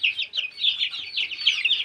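Chickens cluck and chirp in short, busy bursts, close by, with no talking.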